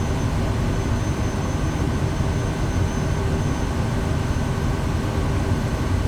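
Kodiak 100 turboprop engine holding a steady high idle, a dense continuous drone with a broad low rumble and faint tonal whine, loud and unbroken throughout with no talking.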